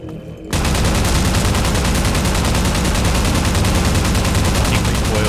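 Rapid automatic gunfire from a weapon in the video game Half-Life 2 erupts after a short pause and continues as a loud, dense, sustained burst.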